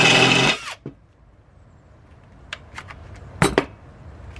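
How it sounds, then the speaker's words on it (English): A short whirring burst of a power drill on a car downpipe at the start, then quiet with a few scattered clanks and taps of metal nearby. "I need to retire my drill already."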